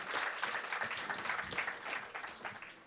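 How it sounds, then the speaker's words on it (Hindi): Applause from a storytelling-session audience as the storyteller is felicitated, a steady dense patter of many hands sustained evenly, fairly faint and at a distance, with no voices over it. "आपका प्यार आप तालियों के थ्रू दिखा सकते हैं।"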